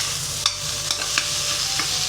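A vegetable curry, bhandara-style sabzi, fries in a pan with a loud continuous sizzle, while a spoon strikes and scrapes the pan in a few sharp, irregular knocks.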